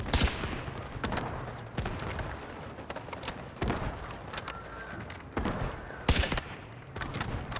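Sniper rifle fire in the shooter game Delta Force Hawk Ops: sharp, loud gunshot cracks recur every second or two over continuous battlefield noise, with occasional distant rumbling.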